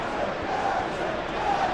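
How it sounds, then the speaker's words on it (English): A stadium crowd in an English Premier League football video game, Manchester United vs Tottenham, roars as one continuous wash of noise with no clear peaks or breaks. "the crowd are reacting to that now"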